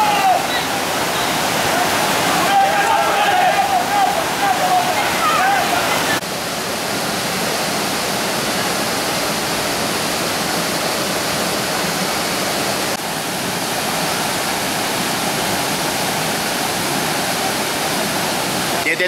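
Creek water running over a few stones placed at the front of a stream in the Kayacı Valley, a steady loud rushing wash that fills the whole stretch without a break.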